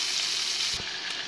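Hamburger patty frying in a pan for a classic patty melt, a steady close sizzle running throughout with one faint low knock partway through.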